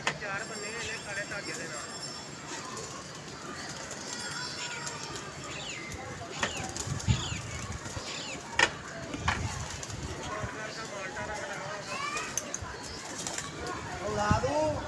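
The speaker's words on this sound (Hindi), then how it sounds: "कबूतर आके बैठ गया" Pigeons at a pigeon club coo and flutter their wings close by, the soft calls and flapping bursts scattered throughout under steady talking.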